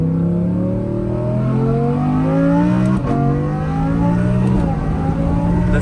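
An Audi R8 Performance with all-wheel drive accelerates hard from inside the cabin. The engine's drone climbs steadily in pitch through the gears, broken by two quick shifts, and stays loud and close the whole time.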